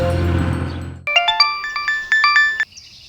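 A mobile phone ringtone plays a bright, repeating electronic melody of short chiming notes, loud and close, starting after a moment of other sound and stopping abruptly.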